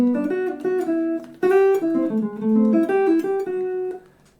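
Clean jazz guitar runs bebop-style arpeggio lines, quick plucked notes in syncopated phrases with a couple of brief pauses, alone and fairly close.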